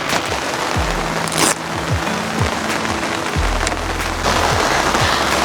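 Heavy monsoon rain pours steadily on a rooftop tent during a solo camping trip in a storm, a dense continuous hiss with scattered thumps and knocks nearby.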